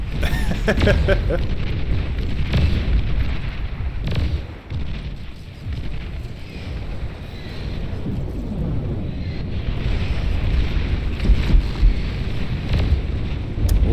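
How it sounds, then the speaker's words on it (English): A fusion reactor blows up in the strategy game Beyond All Reason, a deep rumbling blast that rolls on as a sustained roar of explosions under a talking voice. "There goes another fusion reactor wiping out more and more of this defense"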